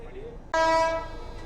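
The Gurudev Express from Nagercoil to Shalimar, hauled by a WAP-7 electric locomotive from Royapuram shed, sounds a loud, sudden horn blast of about half a second that then fades, heard after quieter rail background noise.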